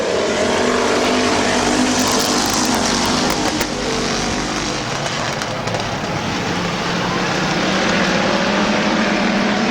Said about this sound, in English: Shimko on the high side of Joe Oliver racing down into turn number 3.